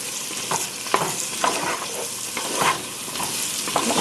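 Chicken ragu for a Vietnamese dish is stirred in a frying pan, giving a steady sizzle with repeated scraping strokes about every half second, close and moderately loud with no talking.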